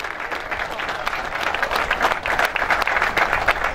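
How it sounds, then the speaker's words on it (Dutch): Crowd applauding at a cycling podium ceremony after the third stage of the Olympia's Tour, a loud, dense outdoor clapping that builds slightly and stays strong throughout. "ik hoor een super applaus voor Wim Struttiga"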